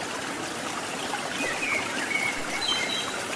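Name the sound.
waterfall Watu Gedek flowing water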